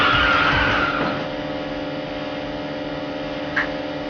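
Tyres screech as a car drifts in the Initial D racing video game on PlayStation 2, a loud skid in the first second that fades into a steady engine hum with a brief squeal near the end.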